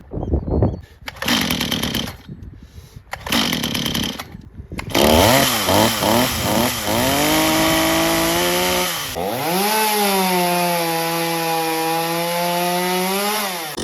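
Rebuilt Stihl chainsaw running on properly mixed fuel: a few short revs from the start, then the engine catches and drones loudly and continuously, its pitch rising and falling as it is throttled up and down, with no talk.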